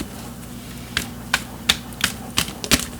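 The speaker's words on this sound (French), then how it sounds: "puis on va continuer de brasser un petit peu ici" Tarot cards are shuffled in a series of crisp, evenly spaced snaps and flicks, close and fairly loud, about six distinct riffles over a faint hum.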